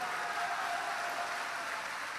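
A large crowd at a religious gathering in Bihar gives a dense, even wash of applause to thank the police. It sounds steady and somewhat distant, with no talk on top.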